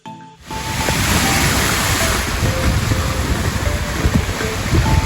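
Surf washes onto a sandy beach with coral shoals in a continuous loud rush, with wind buffeting the microphone throughout.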